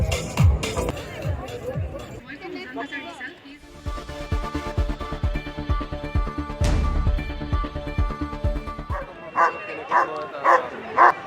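Dogs of various breeds bark, yip and whimper at a dog fashion show on a sports field in Latasil, Guwahati, repeated sharp barks near and far amid crowd murmur and people talking.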